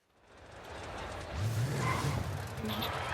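Dodge Challenger Super Stock launching down a drag strip in Forza Horizon 5: engine noise and tire squeal swell from quiet to loud, a rising engine pitch climbing steadily through the run.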